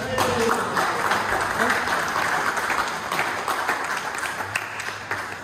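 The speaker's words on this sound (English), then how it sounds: "You can clap now." Audience applause at a tracks and trails forum after a guest speaker's talk, a sustained patter of clapping from a small indoor crowd that begins strongly and tapers slightly toward the end.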